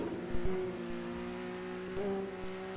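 A Formula 2 race car at Silverstone, its engine and gearbox holding a steady, sustained whine with a brief dip and shift around mid-clip, continuous and fairly close, no talk.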